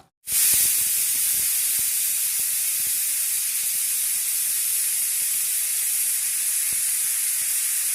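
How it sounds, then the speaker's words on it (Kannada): A pressure cooker holding mutton for biryani vents steam in one loud, close, continuous hiss that starts abruptly and holds steady without pause. "ಫಸ್ಟೇ ನಾನು ಏನು ಮಾಡ್ತೀನಿ ವಿಸಿಲ್ ಹಾಕ್ಸ್ಕೊತೀನಿ"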